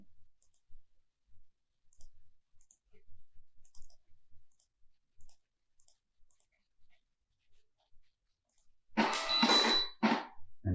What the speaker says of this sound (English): that's the order being printed out that says, hey, there's a shrimp allergy